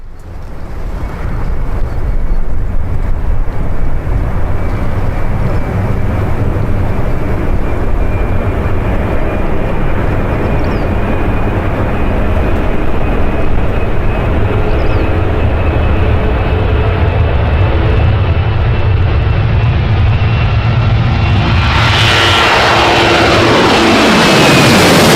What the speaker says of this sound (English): This Boeing 737 taking off with a headwind rotated later than usual and came close